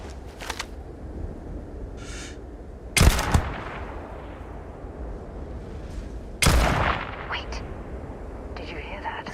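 Hostile gunfire in Starfield, heard as two sharp, loud bursts of shots a few seconds apart, with brief fainter pops between them and a voice talking underneath.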